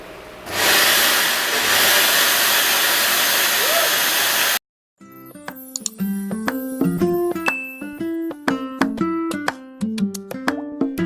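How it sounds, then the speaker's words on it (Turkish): A new 2000-watt electric vacuum cleaner runs with a steady, loud rushing whoosh for about four seconds, then cuts off abruptly and is followed by plucked, tinkling music. "Evet şimdi bir süpürgemi deneyelim."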